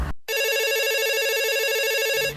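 An office desk telephone rings steadily with a bright, warbling electronic trill, loud and close, sounding alone after a brief gap at the start and cutting off near the end.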